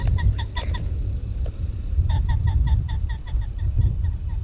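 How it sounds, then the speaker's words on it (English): A Hawaiian nene goose on Maui gives a run of short, rhythmic honking calls over a low rumble of wind or road noise, close and fairly loud. "That is the Hawaiian state bird, the nene. It's a goose."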